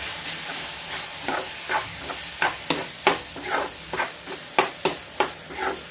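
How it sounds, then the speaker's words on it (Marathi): Onion and tomato sautéing with turmeric, coriander-cumin powder and garam masala for prawn masala, a hissing sizzle under frequent rhythmic stirring scrapes and clinks, close by. "आपण व्यवस्थित असं कांदा टॅमॅटो परतून घेऊया"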